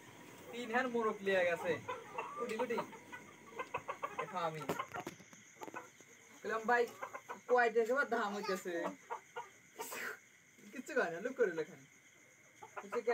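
At a market selling poultry chicks, chickens cluck and call close by in short, uneven bursts, with voices mixed in.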